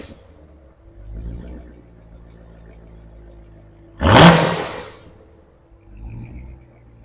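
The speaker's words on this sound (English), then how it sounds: "I was saying, you couldn't hear me, that's stock exhaust." Corvette C8 Z06 engine burbling at idle through the stock exhaust, with one loud, abrupt rev blaring over it before falling back, plus gentler throttle blips before and after; close and powerful.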